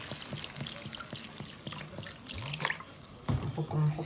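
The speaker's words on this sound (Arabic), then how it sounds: "زودها ميه بقى ونسيبها تستوي" Water is poured into a cooking pot of Saudi meat kabsa, running steadily with light clinks and splashes, then a louder gush near the end.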